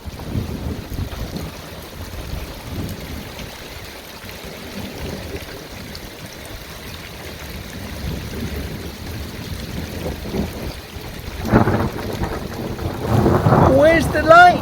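Continuous thunder rolls over a back garden during a thunderstorm, a low steady rumble swelling louder toward the end, with rain and outdoor ambience and a brief voice near the close.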